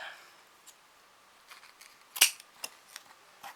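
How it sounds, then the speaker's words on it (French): Scissors cut paper around an image for a Halloween surprise box, producing a few faint, scattered snips with one sharper clip in a quiet room. "on coupe"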